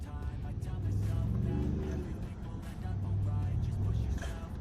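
A 2016 Ford F-150 Platinum's 3.5-litre twin-turbo EcoBoost V6 rumbles steadily nearby, with its low throb rising in two swells of revving.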